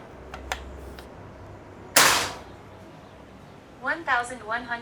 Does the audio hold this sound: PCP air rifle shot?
yes